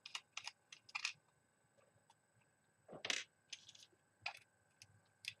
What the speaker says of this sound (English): Undo the fan screws on both sides.